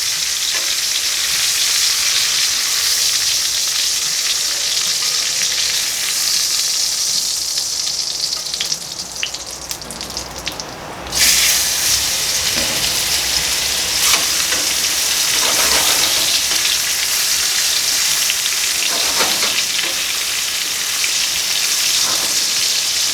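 Pork chops fry in a pan with a loud, dense, continuous sizzle and crackle up close. A brief dip partway through is followed by a slight swell, and no one speaks.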